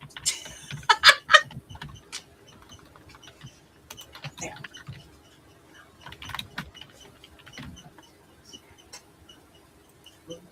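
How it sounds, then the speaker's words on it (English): Irregular bursts of clicking keystrokes on a typewriter, close and fairly crisp, with pauses between flurries and faint background sounds. "Sorry if you hear me clicking away on my typewriter."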